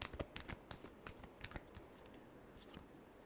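Tarot cards being shuffled: a quiet, close run of quick papery riffles and flicks, denser at the start and then softening into a faint steady shuffle, with no one talking.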